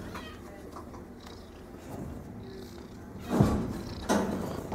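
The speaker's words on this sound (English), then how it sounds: "this is a nice big female cat" A large, friendly one-and-a-half-year-old female cat, formerly a stray, purrs softly and closely at an animal shelter, with a couple of louder rustles and bumps near the end and little talk.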